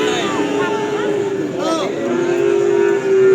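Simmental cattle lowing at a cattle market, drawn-out moos rising over a steady din of crowd chatter and background noise.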